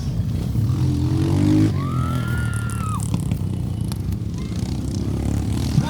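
Dirt track racing motorcycle engines rev and whine close by, pitch rising through the gears over a constant loud mechanical roar.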